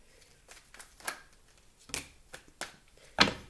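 A deck of cards being handled and shuffled up close: scattered soft riffles and taps in an irregular rhythm, ending with a sharper snap, with no talking.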